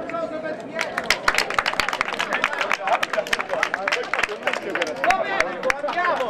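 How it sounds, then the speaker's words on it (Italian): An audience at an athletics event applauds a participant: a dense, steady round of many hands clapping close by, mixed with crowd murmur, lasting the whole stretch. "Pietro, un applauso per Pietro."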